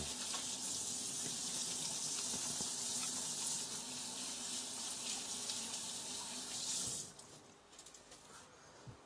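A kitchen tap runs steadily as hands are washed beneath it, a close, continuous stream of water that cuts off near the end, leaving a few faint drips and handling sounds.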